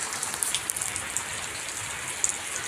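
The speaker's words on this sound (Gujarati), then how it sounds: "વરસાદ આવે છે આ બધું" Heavy rain pouring onto the tin sheet roofs of houses in Vavdi village, a dense, even hiss of drops with a few sharper taps, steady and close.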